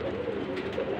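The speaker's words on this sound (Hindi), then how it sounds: "ये गोल्डन कबूतर है, गोल्डन माती है" Highflyer pigeons in a breeding loft in Lahore, including golden birds, giving a soft low cooing that rises and falls continuously, close and moderately quiet.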